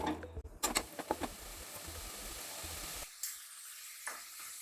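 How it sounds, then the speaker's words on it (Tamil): Onion, garlic and chopped vegetables sauté in a pan for carrot leek soup, a steady close sizzle with scraping stirs and clinks at the start, then quieter frying with a few light taps; no talking. "நம்ம உரித்து வச்சுருக்கிற வெங்காயம், பூண்டு, அந்த காய் எல்லாத்தையும் போட்டு ஒரு 3 நிமிஷம் நல்லா வதக்கி எடுத்துக்கணும்"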